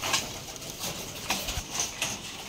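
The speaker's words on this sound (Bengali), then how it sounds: "একটা কবুতর চলে আসছে" A Rajshahi Giribaz pigeon arrives at its loft, its soft cooing and fluttering sounds faint and scattered against quiet background noise.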